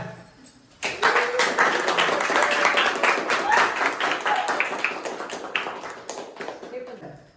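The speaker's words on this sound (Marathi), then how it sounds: "टाळ्या." A group of people clapping at a Diwali terrace party, dense overlapping claps starting suddenly and continuing steadily before tapering off, mixed with voices talking and calling out.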